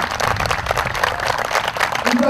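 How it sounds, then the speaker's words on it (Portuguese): A crowd applauds the winning Goiás team at a national football championship for public servants, with steady dense clapping throughout while a voice speaks over it. "palmas para Goiás"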